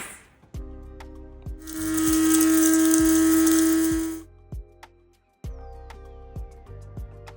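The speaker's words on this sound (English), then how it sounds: "Now I'll be grinding my peppercorns" Peppercorns ground for Nigerian coconut rice: a loud, steady whirring grind of about two and a half seconds, with light clicks and kitchen clatter before and after.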